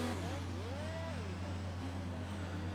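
Formula One car engine in F1 2019 on the formation lap, a steady droning hum with a brief rising and falling whine, heard under a voice.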